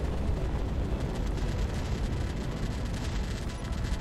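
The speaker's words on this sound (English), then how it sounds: "The one that's currently having explosions throughout the hull." Dense, continuous rumbling blasts and crackling bursts as explosions ripple through a ship's hull in the Space Engineers video game, heavy and sustained with no talk.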